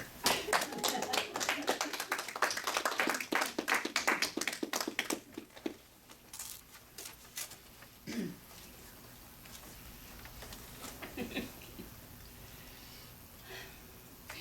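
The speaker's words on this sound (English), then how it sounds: "please welcome both of them with a big applause" A small audience at a spiritual gathering claps briskly for several seconds, the applause thinning out and trailing into a few scattered claps and faint rustling.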